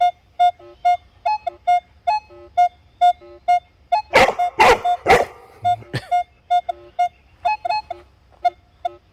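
Minelab Equinox 800 metal detector sweeping a Mercury dime buried with nails: a regular rhythm of short beeping tones, broken midway by a few loud crackling bursts and a brief low grunt from the nails, then the beeps resume.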